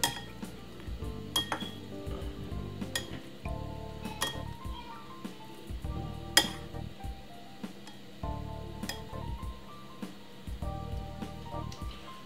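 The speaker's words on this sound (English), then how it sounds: "Give it a nice little stir like this." Frankfurters and noodles are stirred in a metal pot at home, with a spoon clinking and scraping against the pan in repeated close, fairly loud strokes and no talking.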